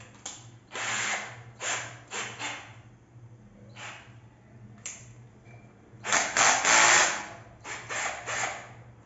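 A Flipkart SmartBuy 12 V cordless drill with a 1300 mAh battery runs in short, repeated bursts of motor whine, some clicking like a ratcheting clutch, with one longer loud run near the end.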